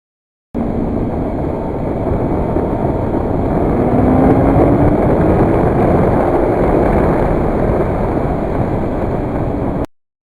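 A 1000cc five-valve-per-cylinder Yamaha FZR motorcycle engine drones steadily while riding, heard up close under heavy wind rush, with a slowly rising pitch in the middle before it cuts off abruptly.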